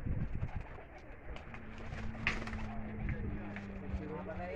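Breeder pigeons on a rooftop cooing in low repeated throaty calls, near and fairly quiet, with someone talking over them and a faint steady hum in the background.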